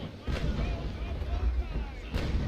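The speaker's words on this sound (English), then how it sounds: "Depower the sails, lower the carronades, and fire." Ship carronades fire a broadside in the naval battle game Naval Action: deep booming cannon shots roll out in a rumbling sequence, with a sharper blast near the end and some game ambience.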